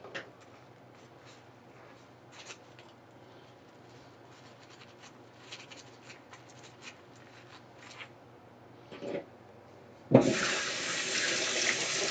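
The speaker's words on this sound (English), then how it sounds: "I have to stop for a moment and wash the beaters" A kitchen tap bursts on and runs steadily to wash electric mixer beaters, the broadband gush arriving suddenly near the end after quiet clinks and small handling noises at the sink.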